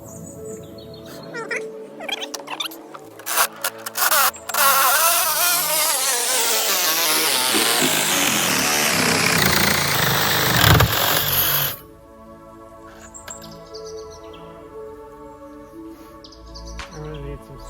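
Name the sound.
Sawzall reciprocating saw cutting a metal rod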